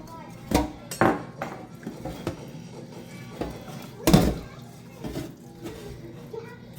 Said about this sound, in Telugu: మా నాన్న చికెన్ ఎట్లా కోసాడో చూడండి ఫ్రెండ్స్